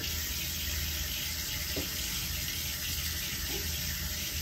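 Tap water runs steadily while a bedpan is rinsed, giving a continuous, even hiss of flowing water with a low background rumble and no talking.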